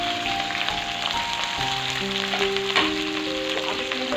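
Chopped okra (bhindi) frying in hot mustard oil in a pan, a steady close sizzle with crackling pops throughout, plus scattered metallic tones.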